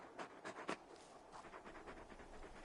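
Torgal, a very large dog in a video game, pants in quick rhythmic breaths that come close and fairly soft. A few stronger huffs open the clip, then steadier, quieter panting continues with no one talking.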